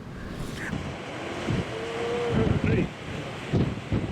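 Strong wind blowing outdoors at Pozo, a windy coastal spot with waves, roaring steadily as broadband rumble and buffeting against the microphone, rising in gusts throughout with faint background sounds.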